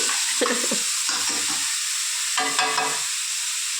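Onions sizzle loudly and steadily in a hot pan, with a few brief scraping stirs of a utensil over the frying hiss.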